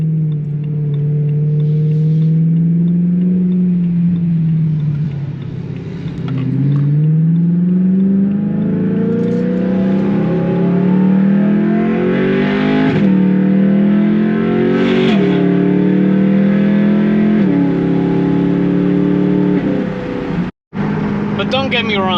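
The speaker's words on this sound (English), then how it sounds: "when the car is fully warmed up, this is the most beautiful engine that BMW has ever made" BMW E92 M3 engine revving up and down repeatedly, loud and close, with rising and falling pitch sweeps over a steady drone, alone without talk.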